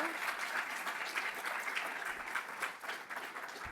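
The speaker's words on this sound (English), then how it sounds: "One more final round of applause for Dr. Ritchie and Joe." A university lecture audience gives a final round of applause, continuous and even, heard fairly faint and distant for the whole stretch with no talk over it.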